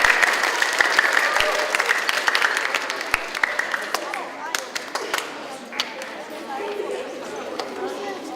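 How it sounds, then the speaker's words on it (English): An audience at the Blackhawk School DARE graduation claps for a class, dense applause that thins out into scattered claps and crowd chatter. "Another big round of applause for Mr."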